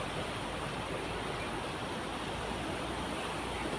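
A river flows with a steady, even rushing of water that continues unbroken, with no voices.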